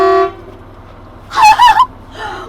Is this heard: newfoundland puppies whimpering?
no